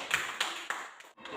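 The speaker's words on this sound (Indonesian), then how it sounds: "kita tepuk tangan untuk dia." A small group of schoolchildren clap for a classmate in a classroom, a few sparse, uneven claps at moderate distance that fade out after about a second, with no talk over them.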